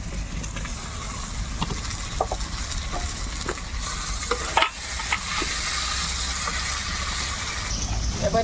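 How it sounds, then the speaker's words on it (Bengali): Spices, potatoes and chopped tomato stir-frying in a pan, a steady close sizzle with scattered scraping stir strokes and one louder clatter near the middle. "আলুর সাথে মশলাটাকে ভালোভাবে কষিয়ে নেব"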